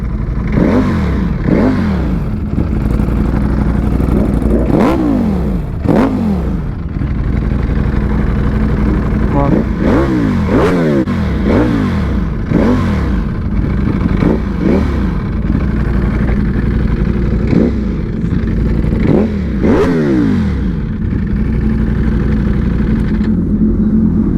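A motorbike engine, very loud and close, is revved again and again in rapid bursts, its pitch sweeping up and falling back over a constant rumbling idle, with voices faintly underneath.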